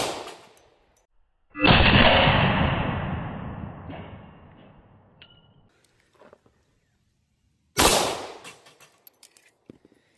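Two loud, close shots from a Kimber Rapide Scorpius 10mm pistol. The first is followed by a long reverberant decay, and the second comes about six seconds later and trails off more quickly. No one speaks.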